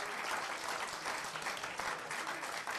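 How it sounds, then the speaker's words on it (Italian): Continuous audience applause at an Italian award ceremony, a dense, even wash of clapping that stays quiet and steady throughout with no speech over it. "Questo applauso è sicuramente il più bel modo per ricordarlo."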